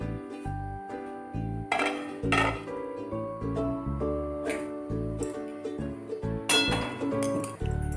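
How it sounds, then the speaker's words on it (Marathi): A metal lid is lifted off a cooking pot with a series of sharp clinks and clatters of metal and glassware, irregular and close, with quiet pauses between. "मी आता हे वरचं झाकण काढून घेते."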